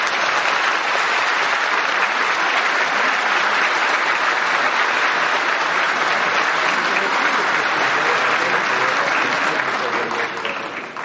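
Loud, sustained applause from a panel audience greets a professor being introduced at a democracy forum, a dense wash of clapping that holds steady for about eleven seconds before starting to thin at the end.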